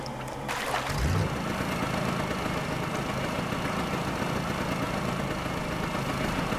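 A motor boat engine in Russian Fishing 4 runs at a steady, continuous drone after a brief start, loud and close with a low rumbling hum throughout.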